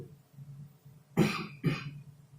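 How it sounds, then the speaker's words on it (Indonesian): Two short, throaty coughs close by, the second a moment after the first, over a quiet background. "batuknya batuk beneran"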